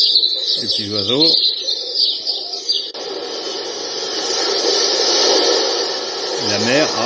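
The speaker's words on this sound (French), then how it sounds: "Les petits oiseaux." Recorded birdsong played through the small built-in speaker of a bedside charging lamp: bright, slightly compressed chirps and trills over a steady hiss, with someone talking over part of it.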